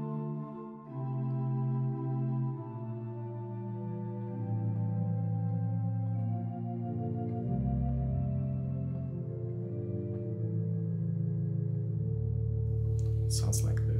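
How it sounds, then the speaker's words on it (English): The Quintadena stop of a Bückeburg organ sampleset, drawn with flutes and tremulant, plays a sustained, gently wavering polyphonic passage with bass notes, continuous and even in level with no voices. "Also give the Quintadena a try with the flutes and the tremulant."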